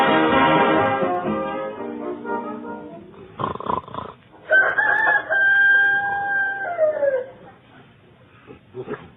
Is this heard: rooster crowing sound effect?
yes